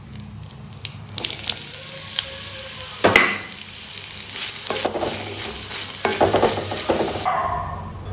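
Chopped onions and green chillies fry in a pan with a loud, close, continuous sizzle, broken by bursts of stirring and clattering, with no talking.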